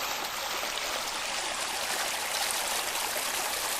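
A stream flows over rocks on Rocky Mountain Run in Shenandoah National Park, a steady, close rushing and trickling that stays even throughout with no other sounds.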